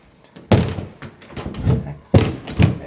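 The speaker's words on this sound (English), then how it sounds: "Door kind of sticks a little bit" A sticking interior door in an 1980s North Dallas house is shoved open, producing a few loud thumps and knocks from close by, spaced irregularly with short scraping noises between them.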